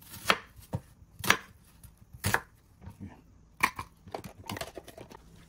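Half an onion chopped with a small manual Daiso chopper, a series of separate sharp chopping clacks at uneven intervals, close and fairly clear, with no talk.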